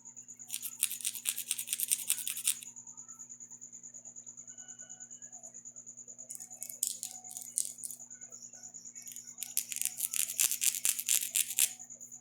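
A file shaping an acrylic nail gives three bursts of quick, raspy scratching strokes, the last the longest, close and fairly quiet over a steady faint hum.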